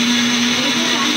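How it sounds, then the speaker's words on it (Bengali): A kitchen mixer grinder whirs steadily, grinding poppy seeds with green chillies; a loud, continuous motor drone with a strong steady hum runs unbroken throughout. "মিক্সিতে পোস্ত বাটার জন্য এর মধ্যে পোস্ত আর কাঁচা লঙ্কা দিয়েছি"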